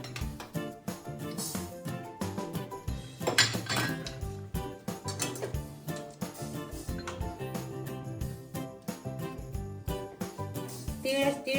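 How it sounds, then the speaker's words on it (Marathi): Sesame seeds are dry-roasted in a pan over low heat, with a spoon stirring in a steady run of clinks and scrapes against the metal, close and continuous over a faint tonal background. "आता याच्यामध्ये आपण तीळ भाजून घेऊया"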